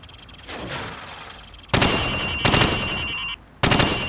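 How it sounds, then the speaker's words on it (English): Rapid hip-fire bursts from a rifle in Call of Duty 4: Modern Warfare at a training range, loud and close, in three sharp volleys separated by brief gaps, with no talking. "Now, shoot at the targets while firing from the hip."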